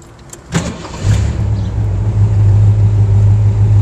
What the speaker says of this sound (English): this one fires up nice. And of course you can't tell from the video, but that motor revs extremely smooth